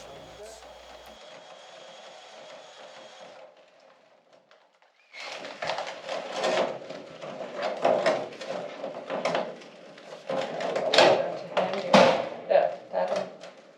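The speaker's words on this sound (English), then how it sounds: "I'm moving it around inside the pipe using the flexible shaft to also knock off any other debris" Metal flexible shaft of a Vevor chimney sweeper rattling and knocking debris inside a chimney pipe, a steady busy clatter of scraping and thumps up close, after a quieter stretch of hum.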